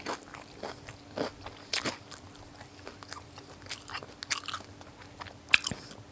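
Someone eats crunchy long bean salad with grilled pork, producing close, irregular crisp bites and chewing crunches over a quiet background.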